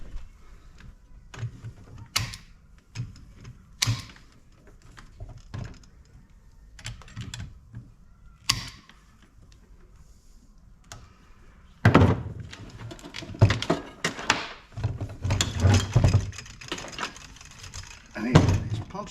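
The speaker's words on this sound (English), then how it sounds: "Might just take my trimmers and cut the cords right now." Trimmers snip through the power cords of a pair of heavy sump pumps, giving sharp close clicks and clunks, then a busier stretch of rattling handling and knocks.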